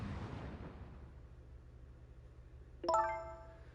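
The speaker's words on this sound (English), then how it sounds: "I think that was the sound of a gun." A gunshot in the video game Ghost Trick: Phantom Detective is a single sharp, ringing, stylized hit that follows several seconds of quiet background hiss. It is fairly faint overall and leaves a short metallic ring.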